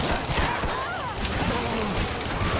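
Rapid, sustained gunfire from the video game Killing Floor 2 aimed at a bloat enemy, a dense continuous barrage with no letup under the game's background noise.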